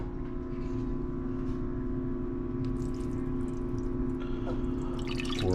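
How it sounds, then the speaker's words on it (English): Water pours into a pot on a stovetop burner turned on high while cooking rice for a Blue Apron meal, a steady splashing trickle over a constant low hum. "Pour in some water."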